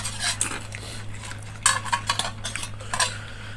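Metal spoons clatter and clink against plates in quick, irregular bursts as people eat fuchka, close and sharp, over a low steady hum.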